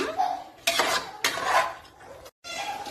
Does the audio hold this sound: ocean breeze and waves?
no